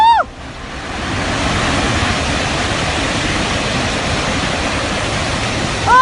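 Muddy flash-flood water rushing from a burst dam, a loud continuous roaring torrent with broad, heavy churning noise throughout.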